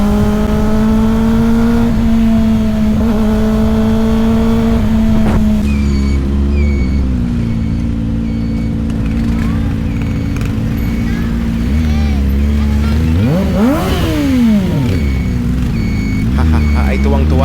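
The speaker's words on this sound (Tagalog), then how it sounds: "Pagkakapogi na ng motor ay pagkakaganda pa ng tunog." A motorcycle engine idles and revs steadily at close range, with a long sustained drone, a brief rising rev near the end, and voices talking over it.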